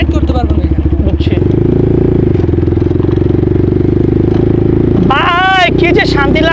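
A motorcycle engine idles loudly up close with a steady throbbing pulse, holding a rough running note throughout, while voices call out briefly near the end.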